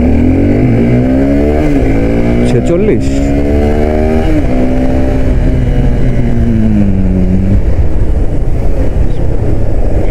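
A Suzuki Gixxer SF 250 motorcycle accelerates hard in first gear, its engine note climbing in pitch through repeated rising sweeps, loud and close over heavy wind noise with a brief spoken word.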